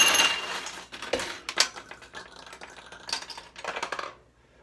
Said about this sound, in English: That one missed, so it's going to go out and through the back of the machine.